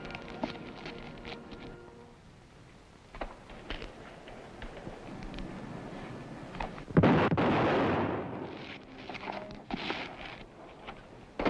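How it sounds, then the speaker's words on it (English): Gunshots in an old Western drama about Billy the Kid, set outside a building used as a temporary jail, with a few sharp reports and a loud burst near the middle over a noisy, busy background. "Bob Ollinger heard the shots and came running out."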